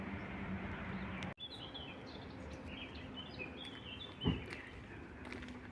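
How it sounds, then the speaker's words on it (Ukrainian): Birds sing near a construction site on a suburban walk, with a few thin chirps scattered over steady outdoor background hum, faint and somewhat distant, plus a brief louder knock midway. "А далі співають пташки поруч з будівництвом цим."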